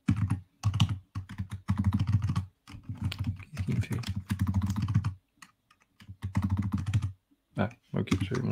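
Bursts of rapid typing on a computer keyboard, close and clear, clattering keys in short runs broken by brief pauses.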